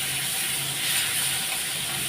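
Onion, garlic, green chili, ginger, tomato and cumin powder frying in a pan for a Bengali rohu fish curry, giving a steady, dense hiss with no break and no voices.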